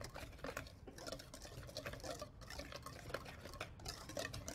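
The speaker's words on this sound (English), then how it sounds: "I do wanna whisk it because I wanna get that baking soda and the salt and" Dry flour, baking soda and salt for chocolate muffins are whisked in a bowl, a close, continuous rapid patter of wire tines scraping and ticking in a quick uneven rhythm.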